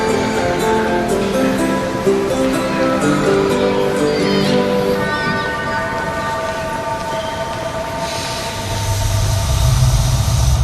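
A train rumbles and hums with droning engine tones, a deeper low rumble building near the end.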